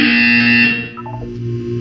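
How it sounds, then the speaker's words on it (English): A loud electronic buzzer sounds in the Portal 2 relaxation center, a harsh sustained tone that cuts off after under a second, followed by a quieter low hum. "You will hear a buzzer. When you hear the buzzer, look up at the ceiling."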